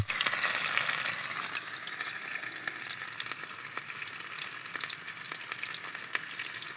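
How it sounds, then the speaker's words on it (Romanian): Fish frying in a pan over a fire on a Danube fishing trip gives a steady, dense sizzle with scattered crackles and pops. It is loudest at the start and then holds even, with no talking. "Să începem să-l prăjim."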